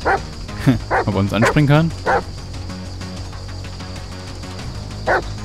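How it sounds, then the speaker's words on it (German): A dog in the video game Die Young gives a few short barks and yips, mixed with someone talking over it, then a lone bark near the end. "Es kommt immer bloß ein Hund an, nicht mehrere"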